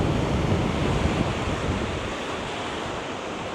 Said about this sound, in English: Baby Isla's playing with Uncle Nico in the waves.